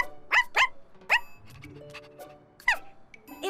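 Several sharp barks from a young black puppy in an animated children's show, three quick yaps early on, another around the middle and one more near the end, with soft music underneath.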